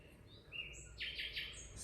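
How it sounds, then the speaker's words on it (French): A nightingale sings at night in a few faint, high, clear notes followed by a quick run of brighter repeated phrases, distant and thin over a low background hum. "C'est le rossignol, seul oiseau à chanter la nuit"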